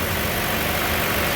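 A 2015 Chevy Cruze engine idles after a valve cover and PCV repair, giving a steady, close, even hum with no obvious whistle or hiss and no talking.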